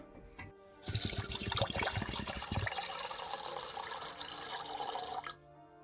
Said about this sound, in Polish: zalewam wodą.